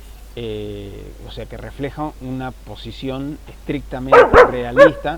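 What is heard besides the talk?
dog barking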